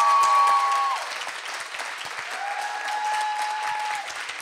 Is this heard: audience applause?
yes